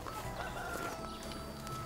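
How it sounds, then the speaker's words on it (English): Farmyard chickens clucking steadily over a dense outdoor background, with a faint crow-like call mixed in, continuous and moderately distant. "looking after my chickens"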